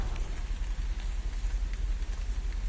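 Rain in the video game République falling on surfaces, a soft continuous patter with low rumble underneath, steady and moderately quiet.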